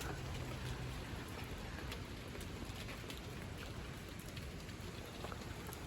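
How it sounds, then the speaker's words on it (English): Steady rain falls on a surface, a constant dense patter with no voices, broadband and even throughout. "it's starting to rain"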